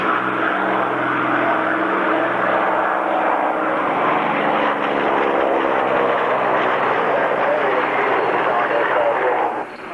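Engine roar at a classic jets and fighter airshow featuring MiG-15 jet fighters, a loud, steady, broad drone throughout, with a commentator speaking over it.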